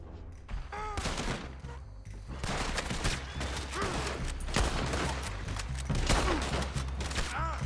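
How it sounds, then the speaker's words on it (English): Enemy gunfire aimed at the player in Red Dead Redemption 2: a dense, steady fusillade of close shots cracking in rapid, overlapping bursts for the whole stretch, with no pause. "I was hoping you'd wait before you started shooting me"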